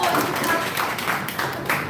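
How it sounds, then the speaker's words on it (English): Applause at a literary club event, a steady close crowd of clapping hands mixed with voices, lasting the full two seconds without a break. "Muhaddisa, please give a round of applause."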